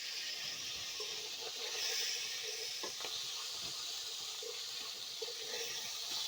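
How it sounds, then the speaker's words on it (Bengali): Boal fish frying in hot oil in a wok, a steady hissing sizzle with a few soft crackles and knocks, close and quiet. "মাছ উল্টে দেব। এক পাশে হয়ে গেছে,"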